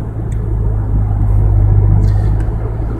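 Car cruising at night, a loud, close, steady low engine and road rumble from inside the cabin, without pause.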